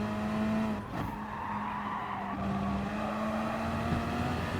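Gr.3 race cars at Brands Hatch in Gran Turismo Sport: a steady engine drone runs throughout with a brief swell of tire scrub as a car slides, loud and continuous, without talking.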